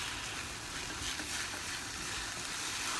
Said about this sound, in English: We will leave this for simmering at a low heat so that we don't have to watch it over and the tomatoes don't stick and burn